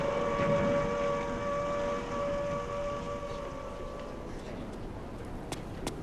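Wartime air raid siren wailing during a bombing, a steady droning tone under rumbling background noise, with a voice speaking over it.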